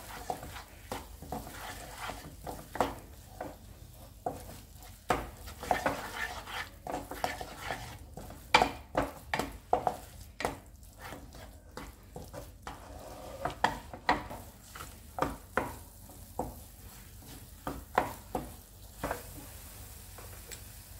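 Condensed milk and coconut stirred in a pan for coconut burfi, a spoon scraping and clinking against the metal in steady irregular strokes over a soft sizzle, close and moderately loud with no talking.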